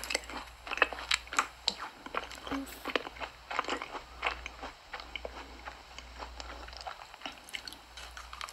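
Close-up crunching as crisp food is bitten and chewed, with irregular crackly bursts and quiet pauses between mouthfuls.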